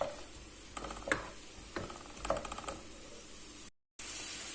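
Chopped onions frying in a pan for a Turkish minced-meat pasta, a steady faint sizzle broken by a few scraping stirs of a utensil, then a brief dropout.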